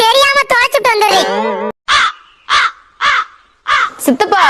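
Repeated loud crow caws, several harsh calls in a row, follow a stretch of speech at the start and break through in separate bursts near the listener.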